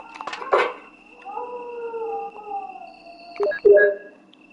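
Dogs in Resident Evil Director's Cut video game howling in long wavering tones, framed by sharp snarls and yelps at the start and end, loud and close over a faint steady tone.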